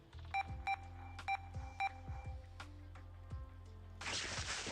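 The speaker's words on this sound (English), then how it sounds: "Sorry, this is all the beeps." Electronic beeps for a horror game's robot character play as a series of short, bright tonal bleeps in quick clusters over a low hum, ending in a burst of harsh static.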